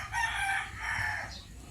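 Backyard chickens near a small vegetable plot, a rooster's drawn-out crow in two swelling phrases, moderately loud and close, followed by a brief higher cluck.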